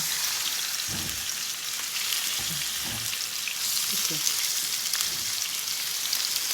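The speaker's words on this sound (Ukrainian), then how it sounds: "наливаємо туди олії, кидаємо туди наше нарізане м'ясо на кавальчики, на кусочки" Chopped meat fries in hot oil in a pan with a loud, dense, continuous crackling sizzle, while a voice speaks intermittently underneath.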